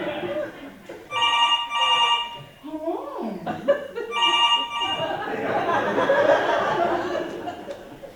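A telephone rings on stage during a theatre performance of the farce Noises Off, in two clear bursts of rings. Actors speak between the bursts and the audience chuckles and laughs throughout.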